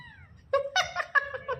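A cat gives several short meows in quick succession, close and clear against a quiet background, each call rising and falling in pitch.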